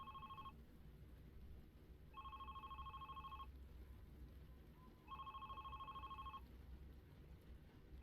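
Telephone ringing in the video game The Red Strings Club, three evenly spaced electronic rings, each just over a second long, with quiet gaps between them and no talk.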